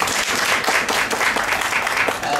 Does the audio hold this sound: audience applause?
yes